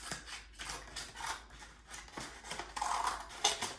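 Scissors opening and closing and cutting paper during a children's occupational therapy session, a series of soft, uneven snips and rustles, faint and close.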